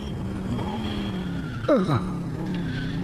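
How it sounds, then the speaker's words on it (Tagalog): A motorcycle pulls up and stops close by, its engine droning steadily before a brief, sharp brake squeal sweeps down in pitch, then the idle continues. "Oy, naay motorsiklo nga mihunong sa tungod"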